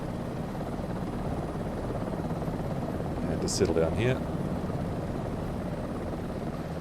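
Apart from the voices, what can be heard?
helicopter rotor and engine in Microsoft Flight Simulator 2024 video game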